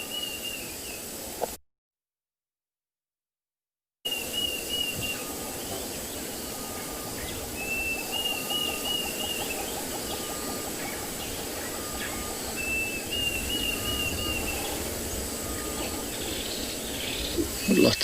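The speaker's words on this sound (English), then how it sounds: "So the bird that you can hear, the Natal spurfowl, very high-pitched sound, won't travel very far." Natal spurfowl and other birds calling at sunrise on an African safari, repeated high, thin calls ringing out at intervals over a steady outdoor hum, with insects buzzing faintly beneath.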